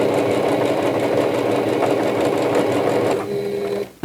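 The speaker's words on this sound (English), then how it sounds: "I'm going to stitch this first block down." A sewing machine runs fast and steady while stitching down a quilt block, a loud close mechanical whir with rapid needle rhythm that slows and stops at the end.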